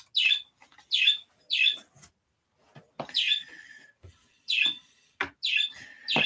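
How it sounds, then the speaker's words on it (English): Pet birds chirp indoors in a room, in repeated bright bursts of calls and tweets with short pauses between them, fairly close and moderately loud, with no talking. "Yes, I do have birds in my room."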